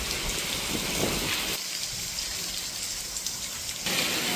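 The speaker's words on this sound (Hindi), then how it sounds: "भाई, गजब की तेज बारिश, गजब।" Heavy rain pours steadily, a dense continuous hiss of water hitting surfaces, loud and unbroken throughout.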